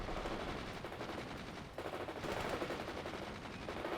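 Rapid battlefield gunfire and grenade-launcher blasts in the World in Conflict video game, a continuous dense stream of shots, steady and loud with a brief dip midway.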